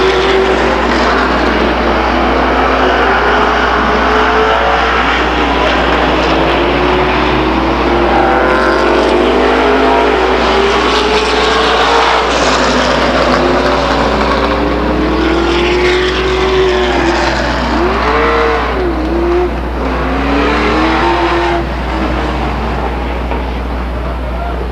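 Race cars run laps at Stockton 99 Speedway, engines droning steadily over a constant low hum with pitch sweeps rising and falling as cars pass, busy and continuous throughout.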